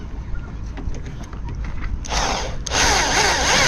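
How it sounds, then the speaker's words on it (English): Power drill boring through the thin, hollow-cored fiberglass roof of a catamaran, starting as a rough grinding whir that swells into a loud, steady drilling drone over the last second, close to the microphone. "I don't like drilling through the roof"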